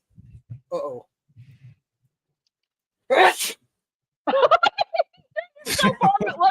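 A single sharp sneeze bursts out loudly among quiet moments, followed by people talking and laughing.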